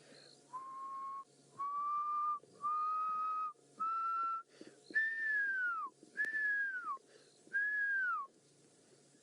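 A person whistles an imitation of a pearl-spotted owl call: seven clear, sustained whistled notes, the first four steady and level, the last three louder and sliding downward, each separated by short pauses.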